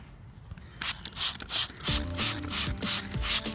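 A handheld spray bottle squirts water onto a jasper and quartz rock outdoors, giving a run of short hissing bursts in a quick, steady rhythm, close to the microphone.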